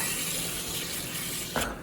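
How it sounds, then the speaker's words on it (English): Water runs steadily into a microgreen tray being filled from the bottom, a continuous close pour that stops with a brief splash near the end. "So we water from the bottom, and we just fill it a little bit"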